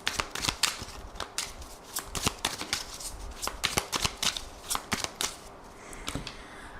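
Oracle cards are shuffled by hand in quick, crisp riffles and flicks. The close, repeated bursts run steadily with almost no voice.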